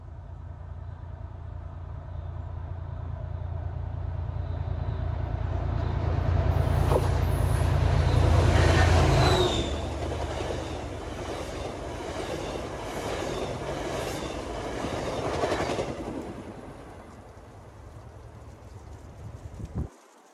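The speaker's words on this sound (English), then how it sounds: "Check out as a Franklin line train flies by at 70 miles an hour." A Franklin line commuter train on the MBTA in Boston roars past at 70 mph, a loud rumbling swell with rattling wheels that peaks midway and then fades into a lingering clatter.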